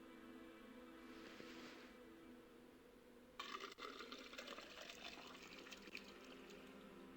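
Water rushing in to fill a space in the MS-DOS adventure game Wishbone and the Amazing Odyssey, a sudden steady gush that starts midway after a quiet stretch, faint and with no voices.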